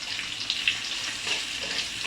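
Chopped onion frying in hot oil in a pan while a Bengali pumpkin and broiler chicken curry is cooked, giving a steady close hiss and sizzle with a few small pops.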